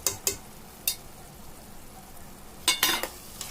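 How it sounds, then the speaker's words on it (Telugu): Fried dried shrimp tossed into a simmering ridge gourd curry with oil floating on top, a steady sizzle broken by several sharp spoon scrapes and stirring clatters, close and without speech. "ఎండు రొయ్యలు ఇందులో వేసేయాలి."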